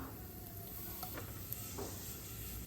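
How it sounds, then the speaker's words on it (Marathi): Mustard seeds, cumin and sesame seeds sizzle softly in a little hot oil over a low flame, a faint continuous crackle with a few small pops. "दोन चमचे तेल घेते त्यात मोहरी घालते थोडीशी मोहरीत थोडंसं जिरं आणि तीळ आहेत जिरं घालते"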